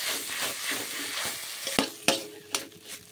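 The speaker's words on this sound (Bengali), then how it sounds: "এই ভাতটা আমি ঘির মধ্যে দিয়ে দিচ্ছি। ভালো করে আমি নাড়তে থাকবো।" Ground rice paste stirred in hot ghee in a kadai, with a steady sizzle and scraping, broken by a few sharp clinks of the spoon against the pan near the end.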